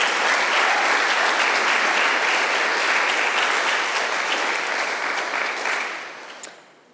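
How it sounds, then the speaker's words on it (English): An audience at a talk on passionate learning applauds, a loud, sustained roar of many clapping hands that holds steady, then tapers off and fades out over the last two seconds. "So give me some applause right now"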